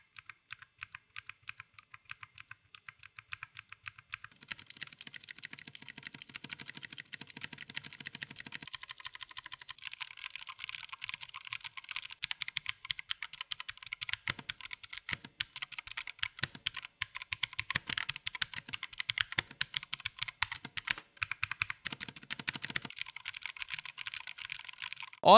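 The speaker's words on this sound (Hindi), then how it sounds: "अगर ब्लू स्विच की बात कर लो, बढ़िया टैक्टाइल स्विचेस हैं" Typing on an Ant Esports MK3400 V3 Pro mechanical keyboard with blue switches, a close, steady stream of crisp clicky keystrokes that grows busier and louder partway through, with no talk.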